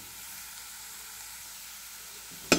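Kashmiri red chili powder sautés in oil for pasta sauce, giving a faint, even hiss that ends in a brief sharp clatter.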